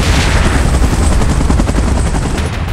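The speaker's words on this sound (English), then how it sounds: "Chopper in position." A film action scene with a military-style helicopter whirring loudly and steadily, its rotor chop blending with continuous gunfire and explosive rumble throughout, no voices.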